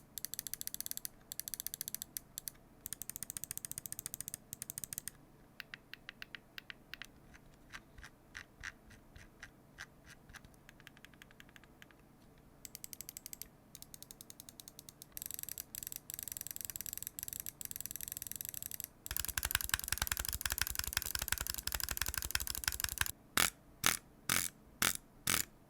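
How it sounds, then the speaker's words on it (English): Clicks from a HyperX Pulsefire Haste gaming mouse with TTC gold switches, close and crisp, pressed in fast bursts and rapid strings of sharp ticks with brief pauses between runs, alone without talk. "I'll do a quick sound test so you guys can hear how the TTC gold switches sound."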